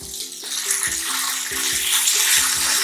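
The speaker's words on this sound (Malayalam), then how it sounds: "അപ്പൊ ഞാൻ അര ഗ്ലാസ് വെള്ളവും കൂടി ചേർക്കുന്നുണ്ട് കേട്ടോ" Water poured into a pan of beetroot kurma, a South Indian curry with ground coconut paste, making a steady splashing pour that continues throughout at moderate loudness, with soft clinks of a utensil.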